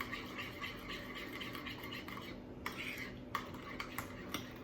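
Mayonnaise dipping sauce stirred in a bowl, a steady close scraping swirl with a few sharper clinks of utensil against the bowl near the end.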